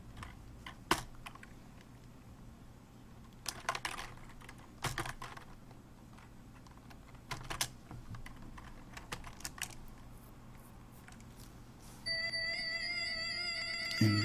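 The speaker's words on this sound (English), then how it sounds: "And we can see what are we typing." Keyboard typing during C++ game programming work, soft scattered keystrokes in short bursts with pauses, fairly faint, and a steady tonal chime pattern entering near the end; no talking.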